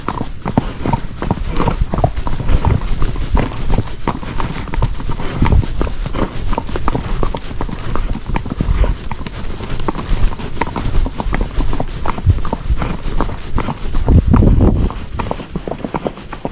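Hooves of a gaited Rocky Mountain Horse clip-clop steadily along a trail, a fast, even beat of close footfalls continuing throughout with faint background sounds.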